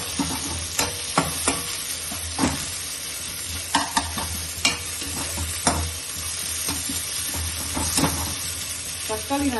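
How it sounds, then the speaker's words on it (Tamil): Tomato and onion sautéing in a pan for a brinjal curry, a steady sizzle broken by repeated sharp scrapes of a spatula stirring, with a faint voice briefly in the background. "கட் பண்ணி வச்சிருந்த ஒரே ஒரு தக்காளியை ஆட் பண்ணி அதையும் வதக்கிக்கிறோம்"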